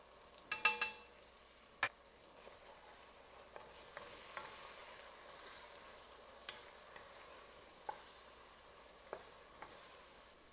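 Spices (cumin, curry powder, smoked paprika, cinnamon) stirred into a curry pumpkin soup base in a Le Creuset Dutch oven: a soft steady sizzle with a cluster of scraping stirs early, then sparse light clinks and scrapes.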